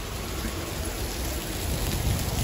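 Steady rain pours down in a continuous broadband hiss, close and fairly loud, with no voices.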